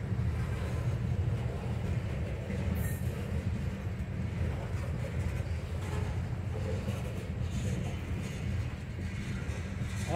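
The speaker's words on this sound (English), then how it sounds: "even more trash trains coming" A heavy freight train carrying trash rumbles past nearby, a steady low roar of rolling cars with a faint high squeal partway through.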